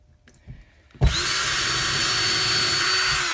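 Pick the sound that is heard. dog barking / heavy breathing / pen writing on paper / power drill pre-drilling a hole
power drill pre-drilling a hole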